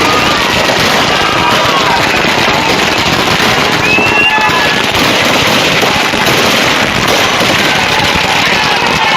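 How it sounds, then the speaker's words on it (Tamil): Firecrackers burst continuously at an outdoor celebration held by workers in Tamil Nadu, producing a dense, loud, unbroken crackling roar with no gaps throughout. "பட்டாசு வெடித்து இனிப்புகள் வழங்கி கொண்டாடிய தொழிலாளர்கள்."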